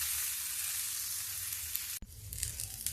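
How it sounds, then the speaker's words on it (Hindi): Potatoes pan-roasting in oil give a dense, loud sizzle for about two seconds, then a sudden drop as the pan is moved, followed by softer crackling and light stirring. "अभी इस आलू को थोड़ा सा हम भून लेंगे"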